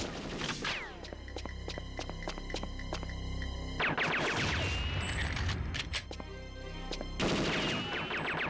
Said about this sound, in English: The explosion dissipated.